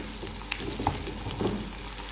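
Onion, garlic, ginger and curry leaves fry in a pan with a soft, steady sizzle, broken by a few light scrapes of stirring; quiet and close, with no voices.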